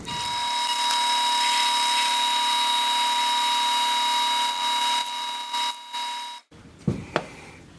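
A power drill boring out a deer antler for a knife handle: a loud, steady high-pitched motor whine holds for about six seconds, dips briefly, then cuts off, followed by a few clicks and handling knocks.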